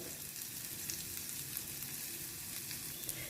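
Onions sautéing in a pan with a little asafoetida, giving a steady, soft, even sizzle throughout with faint stirring, no voices.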